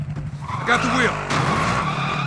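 A vehicle in Warzone drives with an engine hum, and its tires squeal in loud skids close by. Game voice chatter overlaps the driving.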